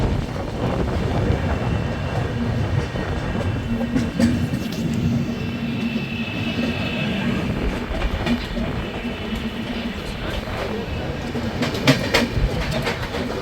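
The 20452 Intercity Express running between Delhi and Sogaria, a loud continuous rumble of wheels on track with rattling carriages and occasional clicks, heard from on board.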